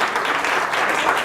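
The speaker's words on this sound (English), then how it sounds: "Give him a round of applause." An audience at a Creative Mornings talk in Palm Beach breaks into a brief burst of thick, continuous clapping, loud and close, that holds steady for just over a second.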